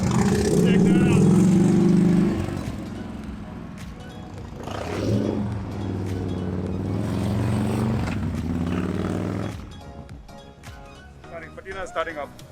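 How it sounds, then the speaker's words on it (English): A patina-finished Harley-Davidson at a classic motorcycle show in Hong Kong rumbles loudly and revs in uneven bursts, with a voice talking over the engine noise and crowd sounds. "The Patina is starting up. The Patina Harley Davidson. Jumping on it to start it up."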